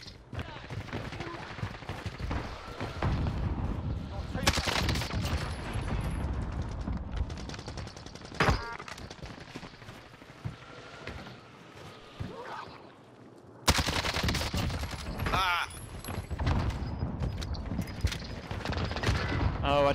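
Call of Duty Warzone zombie royale match full of bursts of automatic gunfire and scattered single shots, loud and near at times with more distant volleys, continuing throughout amid game noise.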